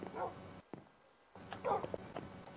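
Dogs bark in a video game, two short bursts of yapping separated by a brief quiet gap, fairly faint and close.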